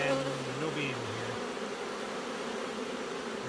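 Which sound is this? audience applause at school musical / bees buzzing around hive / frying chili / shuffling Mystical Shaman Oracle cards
bees buzzing around hive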